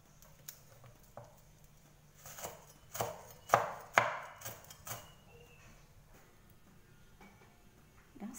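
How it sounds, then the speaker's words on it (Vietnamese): A knife mincing lemongrass, shallots, garlic and chili on a cutting board, a few sharp, uneven chops that build to louder strikes in the middle and then taper off, heard alone. "ớt mình đã băm xong hết rồi nè"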